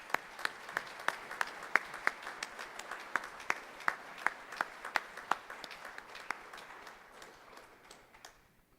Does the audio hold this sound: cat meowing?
no